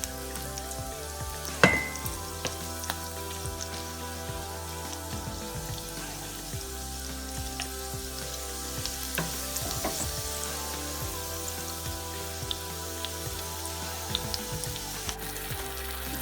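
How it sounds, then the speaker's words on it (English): Chopped onion sizzles steadily in hot cooking oil in a frying pan, a continuous close frying crackle with occasional stirring clinks and scrapes and no talking. "Start with place cooking oil and onion in the frying pan and stir in together."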